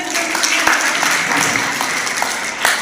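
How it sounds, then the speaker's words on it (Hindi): Girls in a school audience applaud a topper announcement at a board results event, a steady mid-distance wash of clapping with a few sharper individual claps standing out. "कला वर्ग में गर्ल्स तालियां बजाएं"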